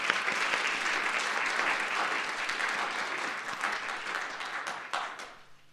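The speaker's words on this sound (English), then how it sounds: "So if we could all give Julie a round of applause." Audience applause for Julie at a campus 24-hour arts challenge introduction, dense steady clapping from a crowd that holds strong, then thins and fades toward the end.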